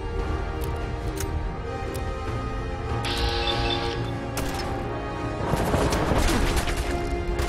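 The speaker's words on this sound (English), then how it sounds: "Ah, machine guns." Machine gun fire in the video game Fallout 4, with sustained bursts and heavy booms during a gun battle, growing denser and louder toward the end.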